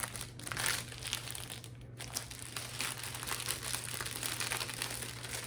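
Wrapping paper crinkling and crumpling as it is worked loose from a gift of Chanel beauty items, a steady close rustle throughout with no talk.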